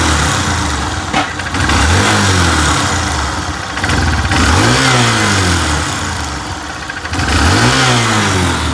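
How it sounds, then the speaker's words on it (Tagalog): A motorcycle engine with a misfiring fault is revved up in three rising pulls that hesitate and stutter, loud and close, with a rough uneven idle between the revs and no speech. "Halos yung parang hindi makaalis yung motor ni boss."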